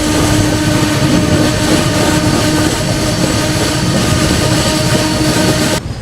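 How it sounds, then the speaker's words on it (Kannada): Humsafar train slowing near Khandala railway station, heard from on board as a loud, steady rumble with a constant hum and faint rhythmic rail clatter that cuts off abruptly at the end. "ನಮ್ಮ ಟ್ರೈನ್ ಇಲ್ಲಿ ಸ್ವಲ್ಪ ಸ್ಲೋ ಆಗಿಬಿಟ್ಟಿದೆ ಖಂಡಾಲ ರೈಲ್ವೆ ಸ್ಟೇಷನ್ ಹತ್ರ"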